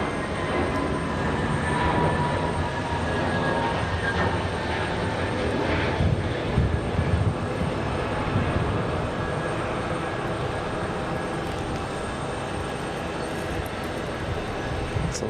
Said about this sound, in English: So it looks like we got another A320, A321, or A319 for American Airlines making their way out.